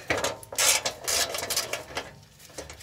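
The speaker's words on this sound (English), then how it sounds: "we're going to take our 12 millimeter and remove this little access protective cover with our 12 millimeter socket" A 12 mm socket ratchet works loose a bolt on the access cover of a Toyota 4Runner, making a steady, close rasping and clicking run of ratchet strokes for a few seconds.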